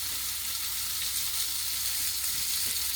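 Butter sizzles steadily in a pan beside a cooking salmon fillet, a constant close hiss of frying with no talking.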